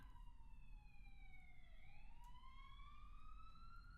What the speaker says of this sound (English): apologies, you might be hearing a siren.